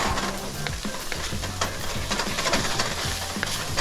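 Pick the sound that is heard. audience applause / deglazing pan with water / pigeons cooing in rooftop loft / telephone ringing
deglazing pan with water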